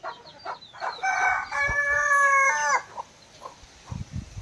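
A rooster crows loudly in one long, drawn-out call, with scattered clucks and farmyard noises before and after.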